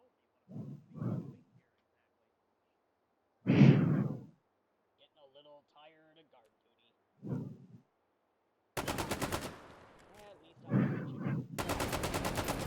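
FN SCAR rifle fire in the VR shooter H3VR, loud sustained bursts of rapid automatic shots in two stretches near the end, with soft speech in the gaps before them.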